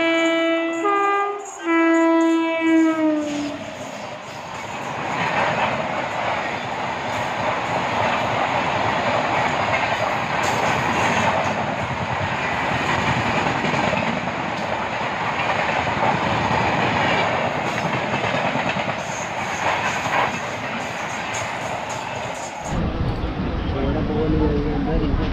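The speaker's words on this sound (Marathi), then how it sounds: "जशी गाडी सुटली पनवेलवरून नॉनस्टॉप" A nonstop passenger train rolling on after departing Panvel, heard from inside a carriage: a loud, steady rumble and rattle of wheels throughout, a horn blast at the start, and voices talking over it.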